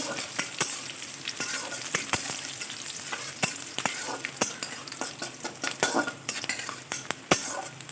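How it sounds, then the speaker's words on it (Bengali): Onion frying in a pan while being stirred until light brown: a steady sizzle broken by frequent clicking and scraping taps from a utensil against the pan, fairly quiet and close. "পেঁয়াজটা একটু নেড়ে করে নেবো হালকা একটু ব্রাউন কালার করে নেব"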